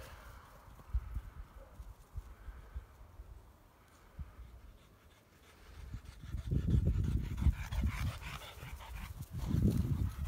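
A French Bulldog pants and snuffles close by during a game of fetch with a ball, breathing growing louder and heavier in bursts toward the end, with no talking.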